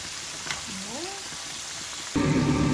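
A whole chicken deep-frying in hot oil gives off a steady sizzle and crackle, which turns suddenly louder and harsher near the end as oil is poured over the top.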